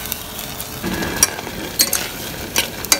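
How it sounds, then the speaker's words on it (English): Melting sugar for orange marmalade is stirred in a pan on the stove, with a soft scraping sizzle and several sharp clinks of the spoon against the pan, close and fairly loud. "you have to keep stirring this, otherwise the sugar will burn"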